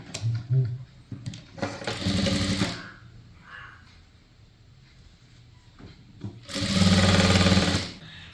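Sewing machine running two bursts of stitching along the edge of a kurti top, each a steady mechanical whir lasting about a second or two, separated by quieter handling noises, close and fairly loud.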